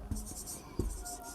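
A pen writes on paper during a maths lesson, giving a short close scratch with two soft taps of the pen, brief and quiet, with no speech.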